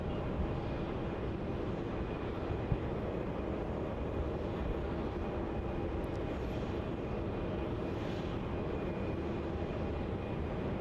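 A steady low rumble of an aircraft taxiing to Terminal 2 at Melbourne Airport, Australia, after a flight from New Caledonia, heard from a distance as a constant engine drone with a faint tonal whine, without any voices.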